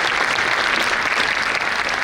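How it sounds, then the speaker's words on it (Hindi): A student conference audience in a hall breaks into dense, continuous applause after a talk wraps up, a loud, even wash of many hands clapping with no break. "मुझे पता है ताली का मतलब है जल्दी जाओ"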